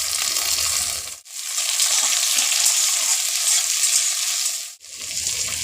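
Chopped tomato hits a hot frying pan for a Bengali mutton curry, setting off a loud, steady, close sizzle that breaks off twice for a moment before flaring up again.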